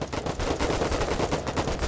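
Rapid video-game gunfire, a continuous stream of automatic shots in a quick, steady rhythm, loud and close, without a break from start to finish.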